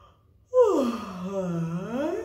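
A single long yawn-like vocal exhale during a singing lesson on lowering the larynx, starting abruptly and then sliding down in pitch into a drawn-out, breathy, moaning tone. A voice deliberately imitates the yawn.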